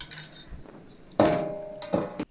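A plate set over an oiled dosa on a tawa lands with a close metallic clatter and lingering ring, followed moments later by a second, lighter clink.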